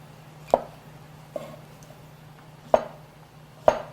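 A knife cutting button mushrooms on a cutting board: four sharp, isolated chops spaced irregularly over a few seconds, close and clear against a quiet kitchen background with no talk.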